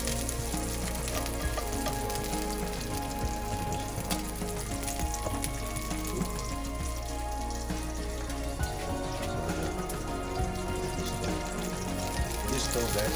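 Food fries in hot oil on a stove for breakfast, a dense, steady crackling sizzle with scattered pops, close and continuous throughout.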